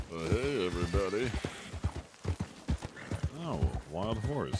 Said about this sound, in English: Oh, wild horse.